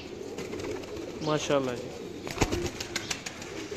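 Domestic pigeons cooing at a Pakistani pigeon fancier's loft, a few soft rolling coos over steady background noise, with a voice briefly speaking.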